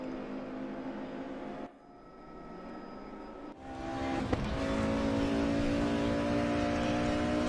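Race car engine in a sim racing game during an eRacing competition lap, revving and accelerating with a brief drop in tone before climbing back to a sustained loud drone.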